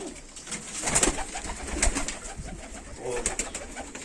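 Hünkari pigeons in a loft, low soft cooing and a few wing flutters and rustles close by, no speech.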